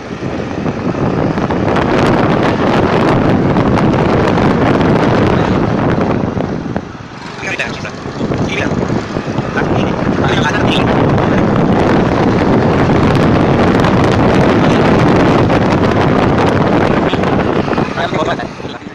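Hero Pleasure scooter riding at speed, with loud continuous wind rush buffeting the microphone and a steady road and engine roar underneath, briefly dipping midway before resuming; a voice speaks over it.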